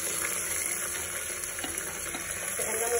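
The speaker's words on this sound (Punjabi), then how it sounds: "ਹੁਣ ਇਹਦੇ ਵਿੱਚ ਮੈਂ ਪਿਆਜ਼ ਪਾਵਾਂਗੀ" Onions fry in a pan for moong masoor dal with a steady, close sizzle that crackles softly and continuously, with no talking over it.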